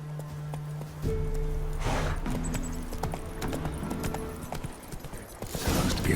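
Hooves clip-clop rhythmically as Roach, the horse in the video game The Witcher 3: Wild Hunt, gallops at a steady pace. Game ambience and music sit faintly underneath.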